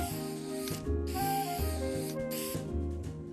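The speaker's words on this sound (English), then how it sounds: "we see Bart spray painting in broad daylight multiple times in the show" Cartoon spray-paint can hissing from The Simpsons, with repeated bursts of spray over a rhythmic musical background, moderately loud and without talk.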